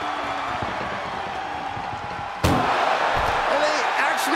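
An ambulance door slams shut during a wrestling video game match, one sharp loud impact halfway through, over a constant roaring arena crowd and a commentator's voice.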